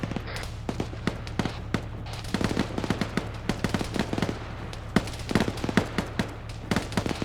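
Rapid volleys of gunfire in a military shooter game, sharp overlapping cracks and bursts in irregular clusters over a steady low hum, some shots close and loud, others more distant.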